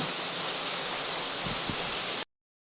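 Strong floodwater rushes during a typhoon in the Philippines, a steady broadband roar heard close and loud, with a couple of brief low thumps near the end before it cuts off abruptly.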